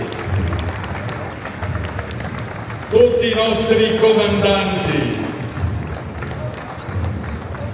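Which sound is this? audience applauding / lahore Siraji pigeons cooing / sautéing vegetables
audience applauding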